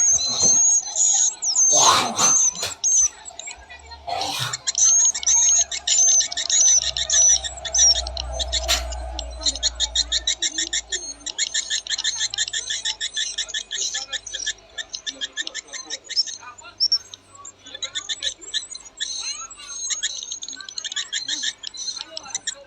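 Dense, rapid chirping and clicking swiftlet calls play continuously through a loudspeaker, with a few loud thumps and handling noises near the start.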